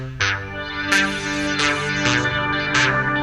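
Music tutorial demo of an eight-bar progression: sustained harmonic chords alternating between the 1 and 4 chords over a steady low bass line, with about five clear attacks marking chord changes, played alone without talk.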